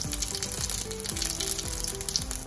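Ajwain seeds crackle and sizzle in hot mustard oil, a fairly quiet, busy frying hiss with quick popping bursts throughout and no talk over it.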